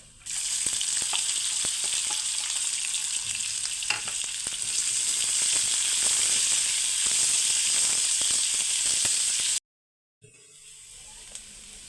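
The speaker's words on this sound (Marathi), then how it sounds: "कांदा इथे छान असा परतला गेलेला आहे" Chopped onions sauté in hot oil with sesame seeds and coriander seeds for kachori filling, a steady loud sizzle with light stirring scrapes that cuts off abruptly near the end before a fainter hiss resumes.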